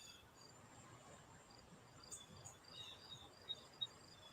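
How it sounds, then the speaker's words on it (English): Crickets chirping indoors, faint and continuous, with a thin high trill running throughout and a few brief sharper chirps toward the end, no talking over it. "can hear my crickets"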